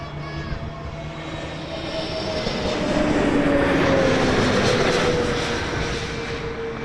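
An airliner in a distinctive livery passes at Toronto Pearson Airport, its engine roar building to a loud peak midway and then easing off as it goes by, with faint talk in the background.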